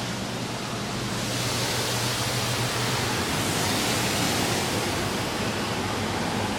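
Conveyor car wash nozzles spraying clear coat protectant and spot-free rinse onto a car, a steady, dense hiss of water that fills the whole stretch without a break.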